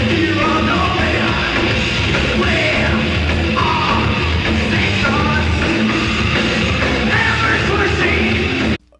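A scream from a bass player's mother rings out at a metal band's live show at a large venue, heard amid the dense, loud wash of amplified guitars, drums and crowd noise that runs steadily until a sudden cutoff.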